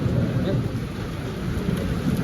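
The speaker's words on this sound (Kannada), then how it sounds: "ಇನ್ನೂ ಜಾಸ್ತಿ ಆಯ್ತು ಮಳೆ ಜಾಸ್ತಿ ಆಯಿತು" Heavy rain during the year's first storm, a dense steady roar of downpour with low thunder rumbling throughout, close and loud, no clear talk.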